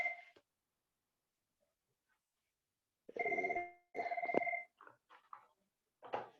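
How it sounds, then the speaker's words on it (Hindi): A mobile phone rings with a bright electronic tone in two sustained bursts after a pause, followed by a few short clicks and beeps as it is silenced, in an otherwise quiet room. "सॉरी फोन था मैं साइड में कर दिया"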